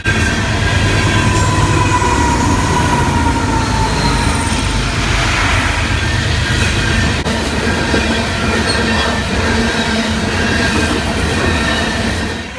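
A long Union Pacific freight train hauled by GE AC44C6M, ES44AC and EMD SD70AH diesel locomotives rolls steadily past, loud and close, with continuous wheel rumble, rail clatter and faint squeals.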